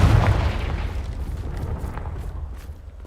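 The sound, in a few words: Confringo spell explosion, Hogwarts Legacy video game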